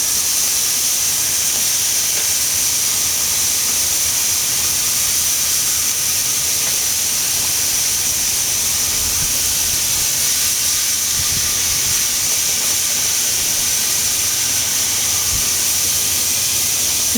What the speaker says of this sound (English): as you can hear and see, I'm getting a really good sear on these things